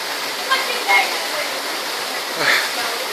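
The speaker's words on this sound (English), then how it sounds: "Get in the waterfall again." A waterfall pours with a steady, full rushing roar up close while people stand in the falling water, with a few brief voices and squeals breaking over the constant spray.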